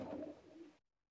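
A Wasi breed pigeon of raw bloodline gives a single soft, low, throaty coo lasting under a second. It is heard close up with no other sound, then stops.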